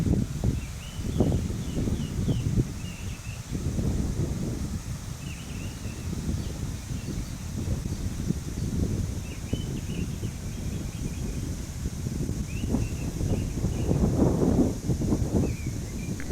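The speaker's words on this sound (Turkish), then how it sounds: "Rüzgarın sesini de duyuyorsunuz. Aşırı şekilde rüzgar var." Steady, strong wind roars and buffets continuously on the Sığır plateau near Çamlıyayla (Namrun), Turkey, with gusty low rumbles and faint bird chirps far off.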